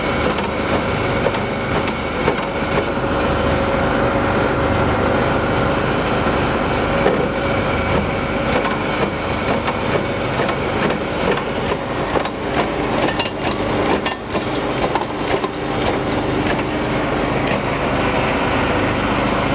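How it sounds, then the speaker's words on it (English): A SealMaster SprayMaster seal coating sprayer's pump runs as a loud, steady mechanical drone with a constant hiss and rumble, holding the whole time without a break. "You're gonna hear the pump cycle into neutral."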